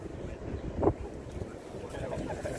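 Wind buffets the microphone at an outdoor wedding ceremony, a constant low rumbling gust heard under a person speaking nearby.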